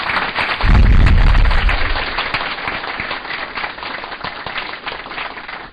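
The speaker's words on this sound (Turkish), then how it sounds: "Bir alkış alalım başkanımıza." Crowd applause for a village association president at a community gathering, with a loud thumping burst near the start and steady clapping continuing at an even level afterward.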